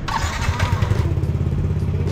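A Yamaha NMAX B1 scooter-style motorcycle engine starts and settles into a steady low idle, close and fairly loud, with a few faint voices in the background.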